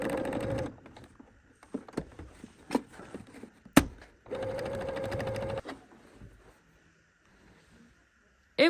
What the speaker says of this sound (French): vous retournez à la machine pour une couture tout autour